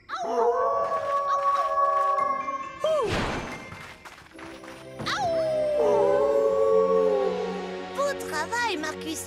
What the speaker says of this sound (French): oh non, on dirait un autre loup